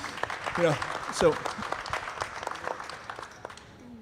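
An audience at a live chamber of commerce event applauds with a steady patter of clapping, moderately loud, mixed with a voice speaking over it that fades out toward the end.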